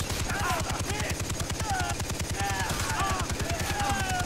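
Sustained rapid enemy gunfire in Far Cry 3, a dense rattling automatic stream that runs loud and steady without a break.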